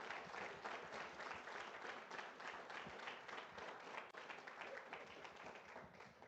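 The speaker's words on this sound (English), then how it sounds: "How about one more round of applause for Marshall Cho?" Sustained audience applause for a speaker named Marshall Cho as an academic conference session closes, dense steady clapping from a sizable crowd lasting throughout, fairly even in loudness with no speech over it.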